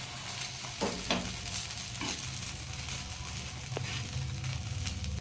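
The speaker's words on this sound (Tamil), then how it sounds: "தோசையை திருப்பி போட்டுக்கலாம்." A Madurai-style chicken curry dosa sizzles on a hot pan with a steady, moderate crackle, broken by a couple of soft scraping knocks as a spatula works under it, close up with no talking.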